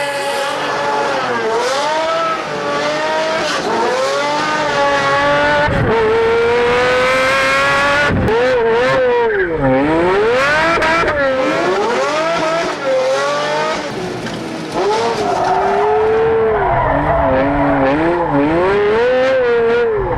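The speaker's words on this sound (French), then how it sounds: "un V12 atmosphérique qui fait un bordel de fou" A Pagani Zonda's naturally aspirated V12 roars loudly and up close, rising and falling through repeated revs and gear changes, with a sharp pitch swoop midway and occasional tyre squeal.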